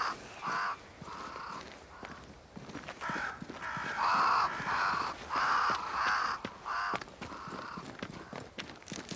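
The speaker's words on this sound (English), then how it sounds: "crows. They flock to that great tree up there." Crows cawing in Banishers: Ghosts of New Eden, a run of loud, harsh caws in repeated bursts over an outdoor ambience, with scattered footstep-like sounds and no talk.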